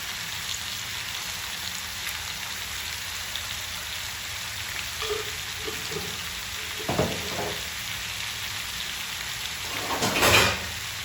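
Chicken pieces frying in a small pan give a steady, moderate sizzle throughout, with a few brief stirring clatters and a louder burst of crackling near the end. No one talks over it.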